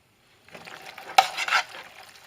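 Stirring cooked pasta with a beef and pizza sauce mixture: a brief, close, wet squelching and scraping, one short burst of moist stirring with no talk.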